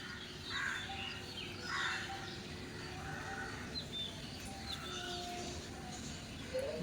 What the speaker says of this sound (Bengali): ভালোভাবে শুনলে শুনতে পারবে আর ওই বড় গাছটাতে থাকে ওই যে দূরে যে বড় গাছটা ওটাতে থাকে টিয়া পাখি